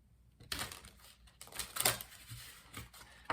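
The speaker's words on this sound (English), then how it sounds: "Let's do one more shuffle." Oracle cards being shuffled by hand in a couple of quick riffling bursts with brief papery flutters, close and fairly quiet, with no talk.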